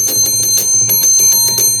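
A Gottlieb Olde King Cole pinball machine bell rings in a fast, even series of about a dozen bright metallic strikes, loud and close, with no talking.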